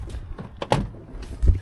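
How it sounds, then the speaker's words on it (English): Rear doors of a work van being opened, a few clunks and latch knocks with a louder thud near the end, close by in an outdoor setting. "let's open the back doors"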